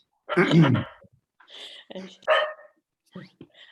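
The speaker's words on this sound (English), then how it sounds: "complete with dog barking noises" A dog barks a few times in short bursts, with quieter gaps between, fairly close and moderately loud.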